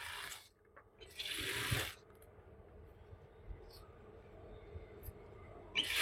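Sewing machine stitching the elastic waistband of palazzo pants, running in two short whirring bursts near the start and a brief one at the end, with quiet gaps between and no talking.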